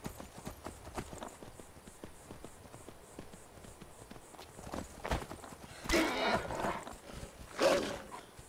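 Horse hooves clip-clop at a steady gallop in a fantasy role-playing video game, with brief louder bursts that may be neighs near the end.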